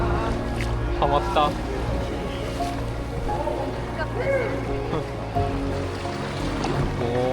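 Riding a longtail boat in Phang Nga Bay, Thailand: a steady engine hum with lapping, splashing water, while a person speaks briefly over the noise.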